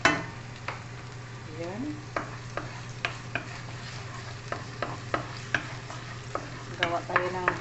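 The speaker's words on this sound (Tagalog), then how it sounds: "Mag-fry muna tayo ng garlic bago yung onions." Garlic frying in a pan for Bistek Tagalog, with a steady low sizzle under repeated sharp clinks and scrapes of stirring, and a brief voice near the start.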